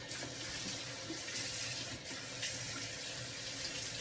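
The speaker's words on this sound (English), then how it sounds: "let's rinse the hair, Chickie" A tap runs steadily into a sink, a constant close splashing stream for several seconds as water rinses a reborn doll's hair, with no voices.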